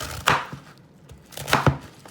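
A knife chops through a cored cabbage on a cutting board in a few sharp, close strikes, a pair early and a quicker cluster later, with quiet pauses between.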